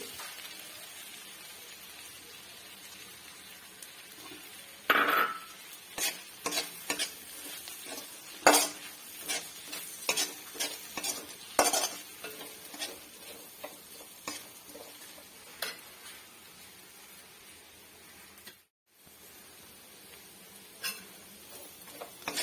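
Onions, curry leaves and chili powder are stirred in a frying pan for a clam-meat dish, with a soft steady sizzle under repeated close scraping and clinking of a spoon against the pan, no talking.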